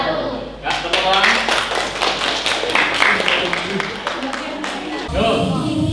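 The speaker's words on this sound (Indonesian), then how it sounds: "Ya, tepuk tangan." A group clapping hands in a learning session, quick individual claps forming a rhythmic, fairly close burst lasting about five seconds, with voices mixed in, ending as a louder voice takes over.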